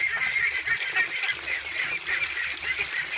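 A flock of ducks feeding on azolla and rice bran, a continuous busy mix of honking, quacking calls and dabbling close by, with no talk.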